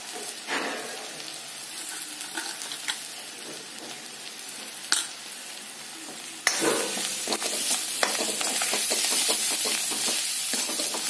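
Masala of turmeric and red chili powder stirred and frying in a pan for paneer tikka masala, a steady close sizzle with scraping stir strokes and a sharper burst of crackle partway through.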